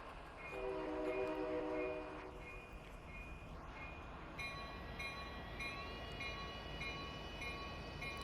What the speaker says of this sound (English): let us go ahead and listen to these sounds as we end up highballing out of here